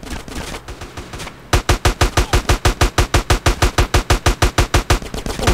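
Rapid automatic gunfire in GTA San Andreas, a steady run of about twenty loud, evenly spaced shots that starts abruptly after a brief stretch of busier game noise.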